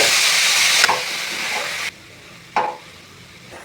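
Grated carrot sautéing in hot ghee in a pan for gajar halwa, a close, steady broadband sizzle with brief stirring scrapes, cutting out halfway and then returning in short bursts.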